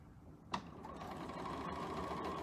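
A sewing machine stitches a 2.5-inch fabric square to a rectangle, fed in on a leader; a single sharp knock is followed by a steady, fast mechanical whir that runs close and continuous to the end.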